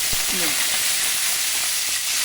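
Green chillies hit hot oil in a pan for fenugreek-leaf chutney, a loud, dense sizzle that stays constant throughout with a faint clink of a utensil near the start.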